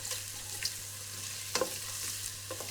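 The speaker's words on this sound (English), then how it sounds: "I tend to put garlic right at the beginning so that it gets fried" Garlic and whole spices fry in hot oil, a quiet sizzle broken by a few short crackles and spatters.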